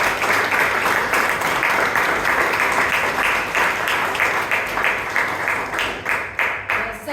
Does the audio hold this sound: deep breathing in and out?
no